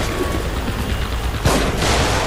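Gunshots in the survival horror game The Evil Within, a loud, steady run of shots that builds into a harsher burst of gunfire toward the end, with no voices.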